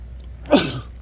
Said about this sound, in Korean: 차에 먼지가 팍 들어오니까 바로 코에서 재채기가 나오네